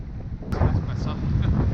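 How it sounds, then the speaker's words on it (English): Gusty outdoor wind at Honister buffets the microphone in a steady low rumble, swelling slightly partway through with no one speaking. "It's got windy, for sure."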